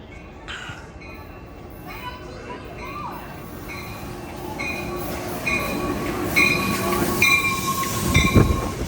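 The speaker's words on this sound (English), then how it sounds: "this is Amtrak 716 Joaquin bound train" Amtrak San Joaquin train 716, led by MPCU 90225 with SC44 Charger 2104 at the rear, rolls past Martinez station with rising rumble, wheel squeal and clacking as it draws nearer and louder.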